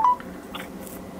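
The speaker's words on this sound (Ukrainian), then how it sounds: "Номер телефону телефоную." Telephone keypad dialing tones heard while calling a seller about a Hyundai Palisade, a few short beeps in quick succession, moderately loud and close, with no voices.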